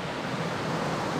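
At Dunlop Falls in Gatineau Park in autumn, a waterfall roars as a steady, dense broadband rush, close and loud with no breaks.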